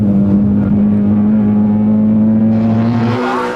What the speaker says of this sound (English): So as the Peaker's car heads for home, John Burns has won